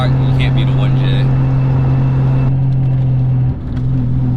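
A 1JZ-GTE engine swapped into a Lexus IS300 with a Grannas T56 gearbox, holding a loud, steady idle drone close by, with a brief dip near the end.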